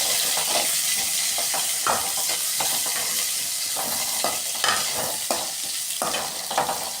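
Chopped onion, tomato and coconut fry in a pan for cauliflower curry, with a constant close sizzle broken by repeated rhythmic scrapes and clacks of a spoon stirring, and no talking.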